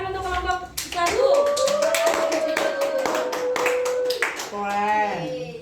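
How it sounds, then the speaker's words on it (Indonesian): Classroom applause for a student group, a flurry of claps under children's and adult voices, with a sung or chanted tone running through most of it. "Tepuk tangan untuk kelompok"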